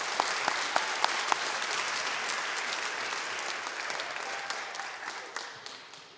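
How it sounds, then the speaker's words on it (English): Audience applause at a school athletic awards presentation for fifth grade athletes, a steady wash of many hands clapping with a few sharp individual claps near the start, gradually thinning and fading toward the end. "Round of applause for all our 5th grade athletes."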